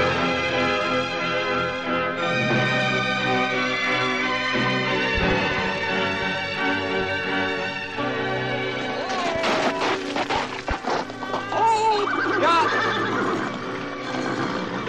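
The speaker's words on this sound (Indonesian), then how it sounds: "Memacu kuda dengan cepat melintasi pada belukar itu" Horses neigh and whinny loudly over a dense layered soundtrack, with hoofbeats of a fast gallop through brush and a few sharp crashes in a dramatized period radio-style scene.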